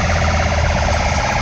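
Fire truck siren in a city street on Brasília's Esplanada, loud and close, a steady wailing tone sustained throughout with no pauses.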